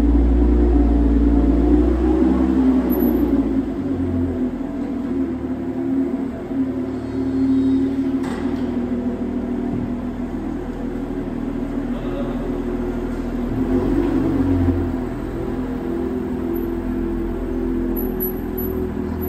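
A Lotus Emira sports car drives along with a steady low engine rumble and road noise heard from inside, its tone swelling slightly a few times as the car moves.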